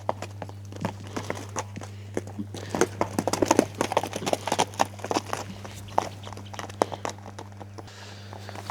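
A racehorse's hooves clip-clop in an irregular run of close, sharp strikes over a steady low hum, continuing for several seconds before quieting.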